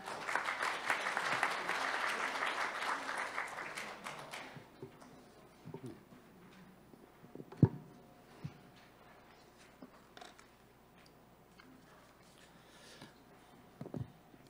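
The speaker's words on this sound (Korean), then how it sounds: "박래찬 과장님을 큰 박수로 모시겠습니다" An audience at a Yeongdeungpo district forum on local sanitation issues gives a few seconds of steady applause for an incoming speaker, then it drops away to near quiet with scattered faint taps and knocks.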